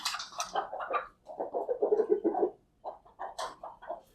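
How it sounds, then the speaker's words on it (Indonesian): Pet chickens cluck and chatter close by in quick irregular bursts, a run of busy clucks broken by a brief pause before the fowl start up again. "Aduh, ini ayam gue berisik cuy."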